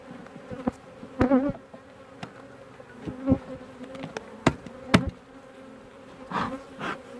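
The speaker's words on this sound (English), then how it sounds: "that's my monster top bar hive with killer bees in it" Killer bees buzzing around a large top bar beehive, a close, steady drone with individual insects zipping past loudly at intervals.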